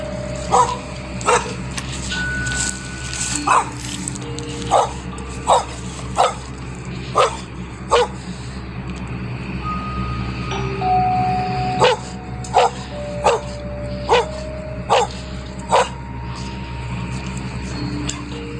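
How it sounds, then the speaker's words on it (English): A frightened dog barks in sharp, evenly spaced bursts, about fifteen of them over steady background noise, with no voices present. "it seems that Bet's dog is a little freaked out as well"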